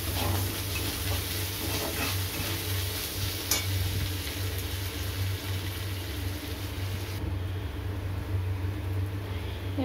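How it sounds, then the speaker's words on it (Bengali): Crushed ginger and garlic fry in a pan for chili chicken, giving a steady, close sizzle with some stirring scrapes throughout and a low background hum. "আদা থেঁতো আর রসুন থেঁতো দিয়ে দেবো। একটু ভেজে নিই এটা।"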